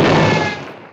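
A single loud revolver gunshot fired at a small rock in the western film Shane cracks sharply and decays over about a second with no voices.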